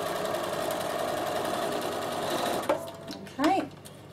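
A Bernina sewing machine runs steadily at speed for close to three seconds, satin stitching, then stops. Short machine bursts follow with brief pauses between them.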